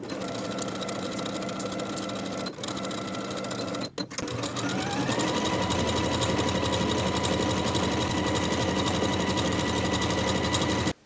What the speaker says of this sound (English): Sew with a 1/2 inch seam allowance and finish the raw edges together.